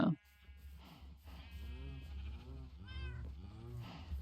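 Cattle in the Minecraft video game low repeatedly, a string of short tonal calls rising and falling at a moderate level over a faint steady background hum.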